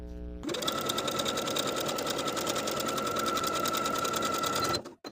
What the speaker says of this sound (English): Now I'm going to edge stitch close to my finishing stitches all the way around.